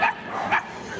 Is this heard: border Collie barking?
yes